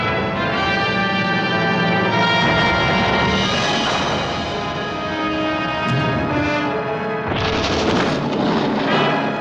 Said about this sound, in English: Allied bombs fall among Canadian troops.